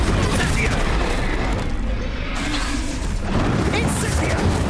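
Confringo and Incendio spell blasts from the Hogwarts Legacy video game, a steady barrage of booming, crackling explosive bursts layered with battle effects, loud and continuous under shouted spell calls.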